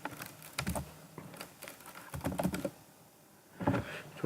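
Keys on a computer keyboard clatter in irregular bursts of clicks, close and moderately loud, with brief pauses between runs and no voices.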